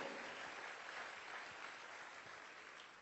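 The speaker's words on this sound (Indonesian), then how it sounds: "Berikan tepuk tangan yang meriah buat Tuhan." Church congregation clapping at a sermon, a steady dense wash of applause held at even level throughout, fairly distant and muffled, with no voices over it.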